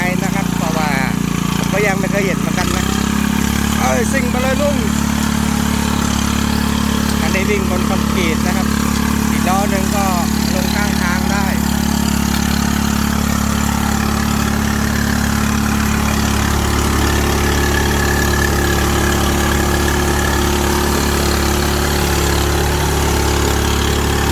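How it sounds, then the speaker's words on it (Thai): A large, wide seeder vehicle's engine idles steadily and loudly up close as the vehicle is moved to another field, a constant low rumble, with someone talking over it for much of the time. "เดี๋ยวมาดูลุงย้ายรถ ย้ายไปอีกแปลงหนึ่ง"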